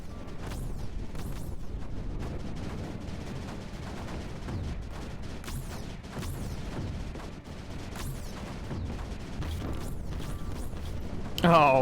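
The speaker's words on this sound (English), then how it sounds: "We're just gonna cover this whole area in mortars." Mortars fire repeatedly in Creeper World 4, a dense run of thumping launches and booms with whistling shells over a steady game background.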